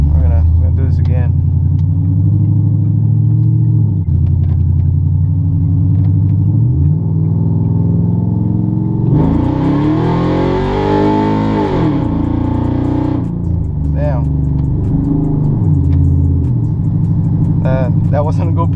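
A car on 245/50-20 tires accelerates hard on a pull, its deep engine rumble building and sweeping upward in pitch for several seconds, loud and close, with talking over parts of it.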